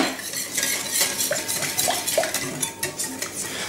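A spoon stirs warm white chocolate brownie batter in a bowl, giving soft, irregular scraping and clinking strokes at close range with no talking.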